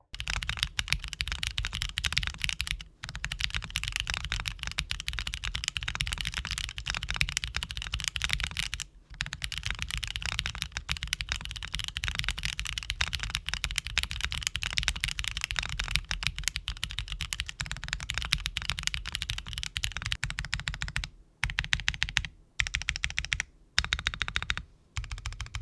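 Continuous typing on a mechanical keyboard with big-bump tactile switches in an FR4 plate, a rich, full, deep clatter of keystrokes close up, with a few brief pauses near the end.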